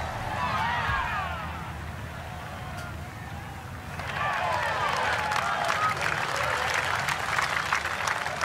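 Crowd applause after a golf tee shot in PGA Tour on PS5 at Evian Resort Golf Course, a steady wash of clapping that swells louder halfway through, with commentary speech over it.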